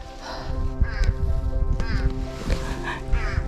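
A crow caws several times at a rocky mountain lookout on Geumsusan in Jecheon, its calls coming in short bursts over steady outdoor rumble and background noise.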